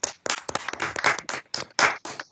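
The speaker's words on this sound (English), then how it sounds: "let's have a final round of applause" A small online audience gives a final round of applause after a talk on documentation in continuous software development: sparse, uneven bursts of clapping from a few people, close and fairly quiet, with short gaps between them.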